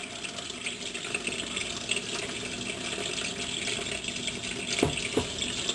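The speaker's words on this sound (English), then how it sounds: "So I'll rinse my brush again." A bathroom tap runs steadily while a hairbrush is rinsed under it, a continuous hissing splash with a couple of brief clinks near the end.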